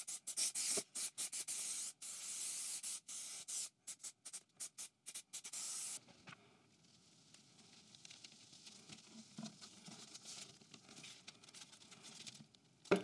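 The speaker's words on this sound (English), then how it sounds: "let's whack in a bit of this spray adhesive" Short, sharp hissing bursts of an aerosol spray adhesive can, repeated in quick pulses, then quieter rustling and handling noises.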